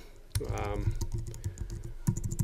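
Fingers type on a computer keyboard while an announcement is composed in Google Classroom, with quick, irregular clicky keystrokes close by and short pauses between bursts, alongside a spoken voice.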